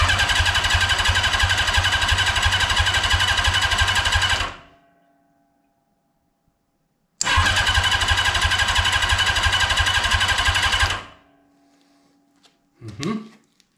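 A 1982 Honda CB650 motorcycle, kept with very low mileage, gives two long bursts of loud, rapid, even mechanical churning, each cut off abruptly and followed by silence, then a brief shorter noise at the end.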